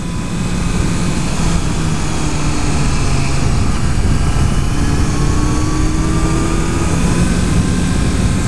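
Continuous loud engine drone and wind roar from a 2014 Honda CBR650F inline-four motorcycle being ridden quickly, with faint rising and falling pitch lines as the revs shift.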